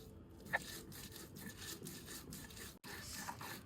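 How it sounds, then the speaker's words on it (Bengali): Garlic and nigella seed paste is ground on a stone slab, a quiet steady rubbing and scraping of stone on stone with a few soft knocks, heard alone. "এবার হচ্ছে বাটাবাটি, সুন্দর করে এটাকে বাটতে হবে"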